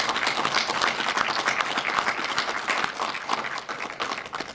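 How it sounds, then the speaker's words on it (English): Warm, sustained applause from the audience at a charity's annual meeting, a continuous patter of many hands clapping at an even level throughout. "Let's give them a round of applause that they so richly deserve"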